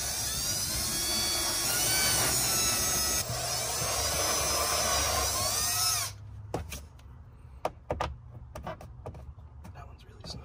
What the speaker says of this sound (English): So just be careful with your step bit because this plastic gets cut super easily